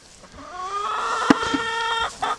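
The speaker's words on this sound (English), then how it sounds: "Yes, chicken, I can hear you." Chicken clucking on a breeding farm, a run of harmonic, rising calls loud and close, with a sharp peck or thump midway and another short cluck near the end, no talk.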